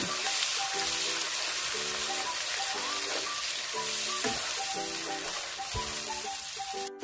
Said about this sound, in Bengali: এখন আমি পেঁয়াজ বাটাকে ভালোভাবে ভুনে নেব।